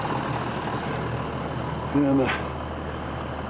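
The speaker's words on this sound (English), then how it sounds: "Gotta get up here where we can hear the tractor" A low engine rumbles steadily throughout, with a voice speaking over it and a brief higher tone rising near the middle.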